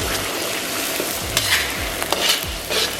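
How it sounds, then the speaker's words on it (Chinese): Scallion, garlic, chili sauce and bean paste stir-fry in hot oil over low heat, a dense continuous sizzle broken by repeated scraping strokes of a spatula against the wok, close and fairly loud. "然后再给里边来把蒜，小火给它炒香"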